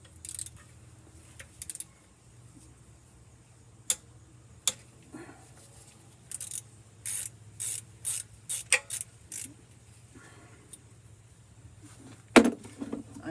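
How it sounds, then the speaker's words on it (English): A ratchet wrench loosens a T40 bolt on a GM 4L80E transmission in short bursts of rapid metallic clicking, close and crisp, separated by pauses and a few sharp knocks over a low hum. "This is a T40 bolt that's coming out."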